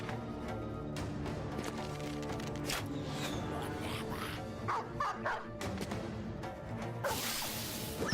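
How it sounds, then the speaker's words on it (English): A war hound in the medieval strategy game Battle Brothers barks amid busy combat sounds: repeated swooshes, weapon swings and crashing hits. "Alright, Abby, you release the hound."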